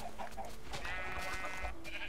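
Sheep bleat in the Minecraft video game, a wavering nasal bleat in the middle standing out faintly over a low background murmur.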